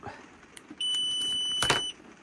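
Carprotec vehicle alarm on a leisure vehicle sounding, a brief high steady beeping tone for about a second with a short burst of noise near the end, fairly quiet, no talk.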